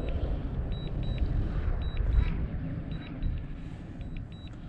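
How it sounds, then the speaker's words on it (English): A drone landing gives off repeated short, high electronic beeps in evenly spaced pairs over a steady low rumble of wind and motor noise, moderately loud. "A lot of beeping. I can't see the drone."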